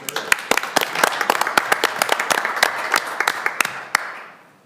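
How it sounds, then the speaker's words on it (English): Scattered applause from a modest audience at a Board of Aldermen meeting welcoming a new staff member, distinct individual claps building briefly and then fading out near the end. "So please, let's give her applause and a Welcome."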